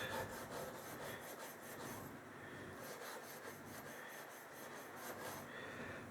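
Continuous rhythmic rubbing and rasping, a Scotch-Brite pad scrubbing back and forth across a metal part of a Crosman 760 air gun in quick, steady strokes, fairly faint.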